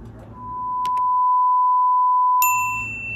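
A single clean electronic notification ding rings out and holds steady for about two seconds, followed by a brighter second chime near the end, with no talking over it.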